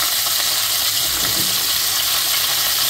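Cauliflower sautés with salt in a pan for a vegetarian fulkopi dish, giving a steady, even sizzling hiss that runs without a break and with no one talking.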